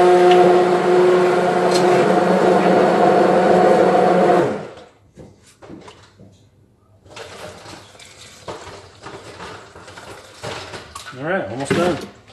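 Countertop blender mixing a Keto Chow chocolate mint shake, a loud steady whir running for about four seconds before cutting off, followed by quieter clatter and voices in the room.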